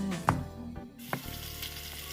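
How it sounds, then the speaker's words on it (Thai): Hot oil sizzles steadily in a wok as squid is stir-fried, with a couple of sharp clanks of a utensil against the wok as food is stirred. "เมื่อเตรียมทุกอย่างพร้อมแล้ว ก็ลงมือผัดปลาหมึกกันเลยค่ะ"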